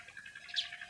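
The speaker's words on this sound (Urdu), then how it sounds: "چڑیوں کی چہچہاہٹ" Sparrows chirping in the morning, a single bright, close chirp rising briefly above a soft, steady wash of outdoor ambience.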